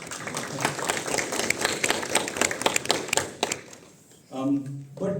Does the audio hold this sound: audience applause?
yes